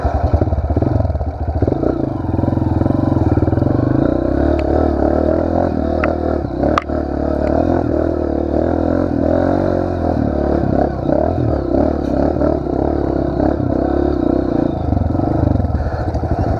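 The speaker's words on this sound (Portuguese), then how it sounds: "E eu vou subir minha moto." A Pro Tork TR100F mini motorcycle engine drones steadily and loudly throughout as it rides uphill on a rough trail, with rattling and scraping over the continuous roar.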